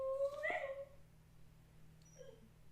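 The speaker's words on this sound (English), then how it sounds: "That's my dog having a dream." A pet dog whimpers in her sleep while dreaming, a short cluster of high, nasal whines near the start that trails off, then a faint whimper later, all quiet and close over a low steady hum.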